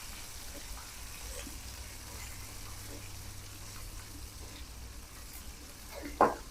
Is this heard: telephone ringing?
no